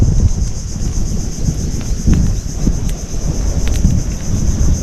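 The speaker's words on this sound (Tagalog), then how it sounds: "Malakas po ang hangin" Loud, roaring gusts of wind buffet the microphone with heavy low rumbling, continuous and close throughout.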